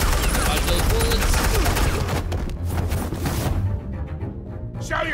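Loud bursts of rapid gunfire ring out in a Batman Telltale Series game scene, dense volleys that thin out toward the end.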